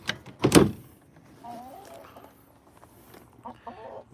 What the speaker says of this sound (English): Got plenty of chickens.